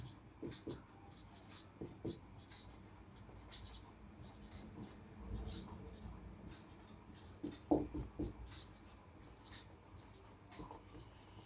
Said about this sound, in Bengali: দেখো লিখে নি